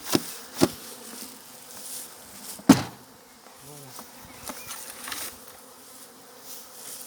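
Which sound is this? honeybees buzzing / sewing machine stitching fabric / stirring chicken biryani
honeybees buzzing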